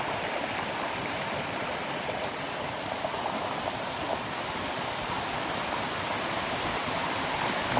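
Clear water of a creek and waterfall at White Oak Creek Falls rushes in a steady, even hiss, with no pause and no voices.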